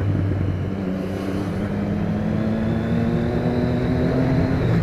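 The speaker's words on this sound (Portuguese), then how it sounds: "Olha os estourinhos da moto, velho." A motorcycle accelerates on an open highway, its engine droning steadily and rising slightly in pitch, with a continuous rush of wind and road noise rather than distinct exhaust pops.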